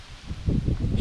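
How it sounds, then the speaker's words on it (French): Wind gusts through leaves in the Tarn gorges, a close, rushing rustle that swells in rhythmic waves over a low rumble. "regarde-moi ce vent, c'est terrible"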